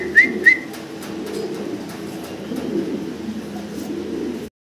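Lahori fancy pigeons give a steady low cooing murmur close by, with two short sharp chirps near the start and no talking.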